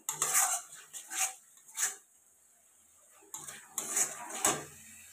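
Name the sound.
mixing chili powder into the egg dish in a pan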